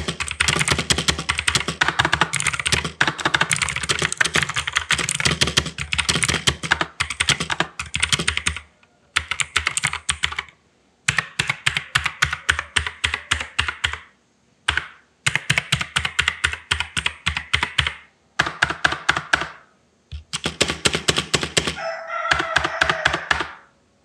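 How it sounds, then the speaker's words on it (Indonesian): Rapid clacky keystrokes on an Armaggeddon MKA budget mechanical keyboard, continuous bursts of typing broken by a few short pauses, close and fairly loud. "Kemudian untuk suara dari keyboard ini seperti ini."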